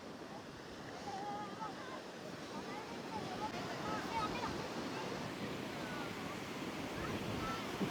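Rough, churning sea waves break at Devgad beach in a steady, wide roar of surf mixed with gusting wind buffeting the microphone, continuous and moderately loud, with people faintly talking underneath.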